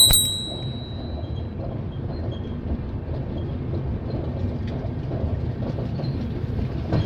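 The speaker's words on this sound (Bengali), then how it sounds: "ফাইনালি দীঘা স্টেশন থেকে ট্রেন ছেড়ে বেরিয়ে যাচ্ছে।" Digha–Visakhapatnam Express pulling out of Digha station, opening with a brief high bell or ding, then a continuous rolling rumble with light clickety-clack of wheels over rails, steady and near.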